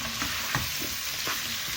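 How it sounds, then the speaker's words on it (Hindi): Ridge gourd fries on high heat in a pan with a steady, dense sizzle, as a spoon stirs it with a few soft scrapes. No speech. "तेज़ आंच पर इसको भून लेना है 2-3 मिनट।"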